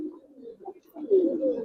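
Giribaz pigeons coo in low throaty phrases, a softer murmur first and then a louder rolling coo after a short pause, close by with no talk.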